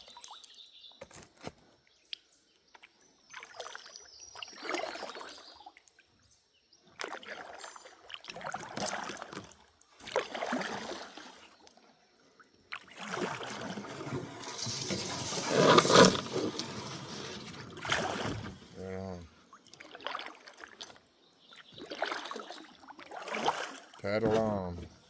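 A kayak is paddled through flooded bushes on a swollen stream: intermittent paddle splashes and dripping water, with branches brushing and scraping against the hull. There are soft irregular knocks, and a bird chirps in the background.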